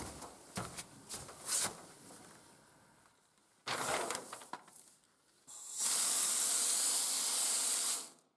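An AEROFIXX spray device gives short bursts of hiss, then a long, loud, steady spray that runs for about two seconds and stops abruptly, with no talk.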